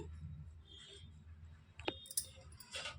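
Gas stove igniter clicking while lighting the burner before tempering for an ivy gourd coconut chutney, a few sharp clicks in a quiet kitchen with faint background noise.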